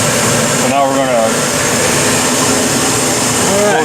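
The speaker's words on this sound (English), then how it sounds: "there's the vacuum pump connected to the hose, which goes into the oven, which keeps it under vacuum while it's curing" A vacuum pump runs steadily, connected by hose to a composite curing oven, giving a continuous mechanical hum with a faint voice briefly over it.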